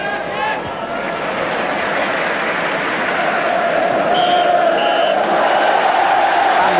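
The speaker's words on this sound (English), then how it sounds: "Cheer at half-time from the Stamford Bridge crowd reflects a fine 45 minutes by Chelsea." A football crowd at Stamford Bridge cheers at half-time during a 1980/81 Chelsea match, a broad, sustained roar of many voices heard from a distance with whistles rising above it.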